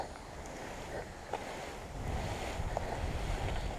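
Outdoors during paraglider prep, wind buffets the microphone as a steady, faint rushing roar that grows slightly stronger partway through, with no talking over it.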